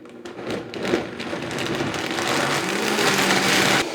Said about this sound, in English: As the blender's running